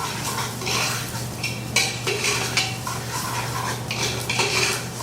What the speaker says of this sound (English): So we're just going to toast the rice.